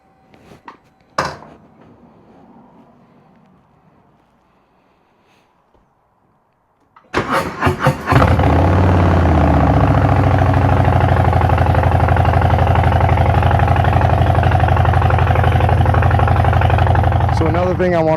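Harley-Davidson Street Bob 117 motorcycle, after quiet moments and a brief sound, cranks over and fires up, then settles into a loud, steady, close-up idle rumble.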